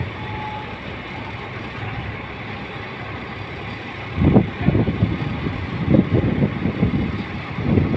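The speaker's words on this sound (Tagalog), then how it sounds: "Hindi rin mapakali yung driver ng mini dam, atras ng atras." A mini dump truck idles and rumbles while reversing at a loading site, its engine surging in heavier bursts over the steady hum of machinery, the backup beeps faint in the mix.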